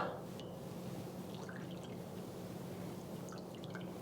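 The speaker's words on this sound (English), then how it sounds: "Then ladle in the soup." Soup ladled over noodles and pork in a bowl for spicy noodle soup, heard as soft dripping and liquid splashing, steady and close, over a low continuous kitchen hum.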